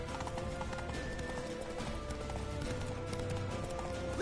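Rapid clip-clop of a horse's hooves at a steady gallop in The Witcher III, moderately loud and continuous, with faint background noise.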